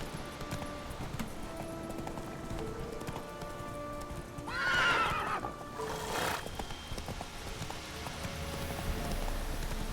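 Roach the horse galloping in The Witcher 3, steady clip-clop hoofbeats running under game sounds, broken by a loud whinny midway, with faint talk in the background.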